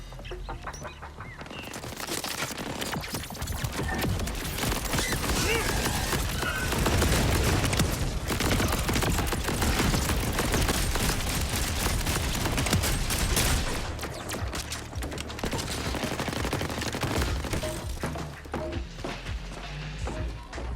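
Enemy turrets fire in Borderlands 4, dense, loud, continuous volleys of gunfire and blasts layered with game effects over about twenty seconds, no speech heard.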